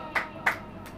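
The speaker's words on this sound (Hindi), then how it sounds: "ताली बजाइए।" Two or three short bursts of hand clapping from an audience in a church sermon setting, moderately near, evenly spaced and fairly soft.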